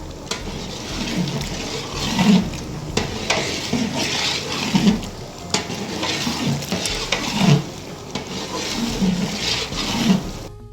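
Chicken karahi with tomatoes and garam masala simmers and sizzles in a pan, with a spoon stirring and scraping in a rough rhythm every couple of seconds, close by.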